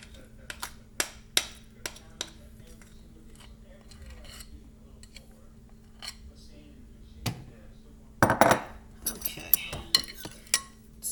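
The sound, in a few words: spoons scraping sticky cookie dough protein bar mixture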